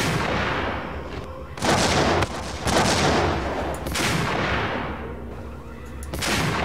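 Gunshots in the video game Max Payne ring out as a loud, sustained barrage of close, booming reports that run together almost without pause.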